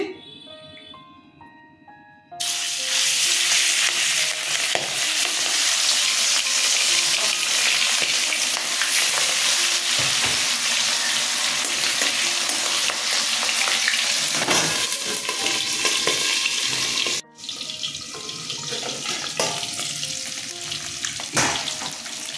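Aar fish frying in hot mustard oil in a covered pan, a loud, continuous sizzle that bursts in after a quiet start, briefly cuts out, then resumes.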